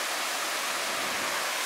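A waterfall at Tai Tam Reservoir in Hong Kong roars steadily after rain, a dense, even rush of falling water filling the air with no voices over it.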